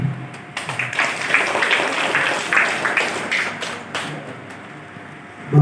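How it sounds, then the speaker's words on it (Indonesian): Meeting attendees at an Indonesian assembly clap together in a steady, crowded patter. The applause rises quickly, holds at moderate loudness for several seconds, then thins and fades near the end. "Tepuk tangan."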